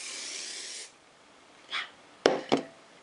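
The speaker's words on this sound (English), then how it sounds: "I'm just gonna like spray each piece individually so it has extra hold throughout the day." Hairspray hisses steadily from a can onto curled hair for nearly a second, then short taps and clicks follow, with one brief puff in between, all close and fairly quiet.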